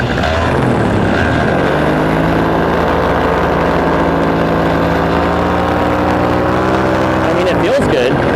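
A powered paraglider engine runs steadily on the ground at a fly-in, loud and close with a constant droning tone and a brief dip near the end, while a person talks over it.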